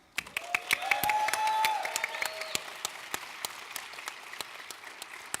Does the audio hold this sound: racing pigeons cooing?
no